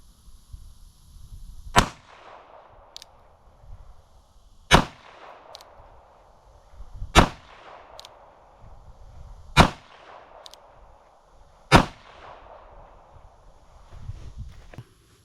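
Five sharp, loud gunshots from a Smith & Wesson 648 revolver chambered in .22 Magnum, fired outdoors at roughly two-second intervals, each a crisp crack followed by a short fading echo.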